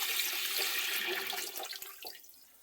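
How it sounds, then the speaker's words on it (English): Water pours steadily into a vintage All-American pressure canner, a loud close rushing splash that thins and trickles off toward the end. "We're going to load this with 3 quarts of water per the instructions."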